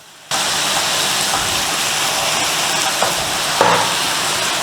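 Onions and garlic hitting a hot pan for a Philly cheesesteak, a sudden loud sizzle that settles into a steady close frying hiss with faint clicks of a utensil.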